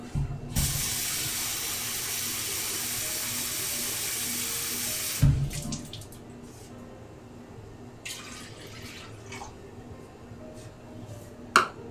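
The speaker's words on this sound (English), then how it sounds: "And I add another cup or so of water." Water running from a tap into a cooking pot, a steady rushing pour for about five seconds, then stopping, followed by faint drips, clinks and kitchen handling noises nearby.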